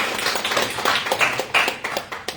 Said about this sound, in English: a quick round of applause for Shane.